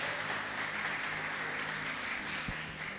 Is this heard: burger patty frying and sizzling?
no